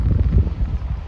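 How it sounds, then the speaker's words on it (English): Low, blustery wind buffeting a microphone at a lake in Nopiming Provincial Park, a rumbling roar that surges and dips with no other sounds. "it's looking pretty windy"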